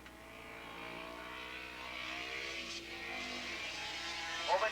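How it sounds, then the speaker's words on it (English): Open GP race cars at Willow Springs Raceway coming down the front straightaway in a 1987 ARRA Formula race, heard as a steady, moderately distant engine drone that swells and shifts in pitch as cars pass, over a faint electrical hum. "Open GP coming down the front straightaway here"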